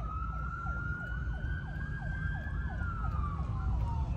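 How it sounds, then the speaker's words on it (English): Emergency vehicle sirens wail steadily on a highway during a memorial motorcycle ride, a rising and falling yelp cycling repeatedly over constant road and engine rumble, moderately close. "the sirens."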